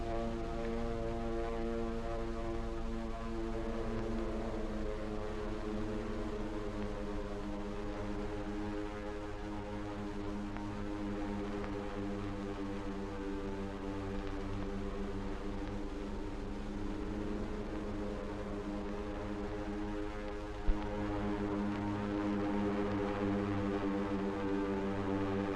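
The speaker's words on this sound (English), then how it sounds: "the drone of planes was faintly heard." Propeller aircraft from the December 7th, 1941 attack on Pearl Harbor drone steadily, a continuous low engine hum with layered tones that stays fairly even and distant throughout, with no voices.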